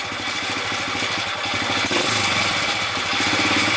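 A Honda C70 motorcycle engine, loud with a possible worn gearbox bearing, runs close by in a steady rapid putter with a rough mechanical clatter over constant exhaust noise.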